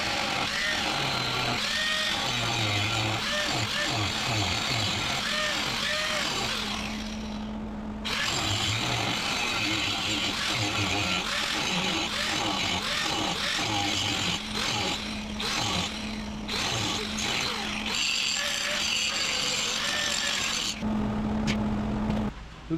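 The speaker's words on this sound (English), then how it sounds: "we're going to get it right here, and we're going to grind that out a little bit." An angle grinder works a crack out of a cast iron pump housing in a shop, a loud, harsh grinding whine close by. It runs nearly continuously, with a short pause and an uneven, scraping texture.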